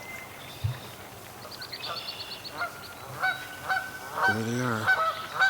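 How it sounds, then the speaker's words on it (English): Geese honking repeatedly at close to mid distance, a run of nasal calls that builds louder toward the end, with a brief spoken remark early on. "Okay guys, the geese are here."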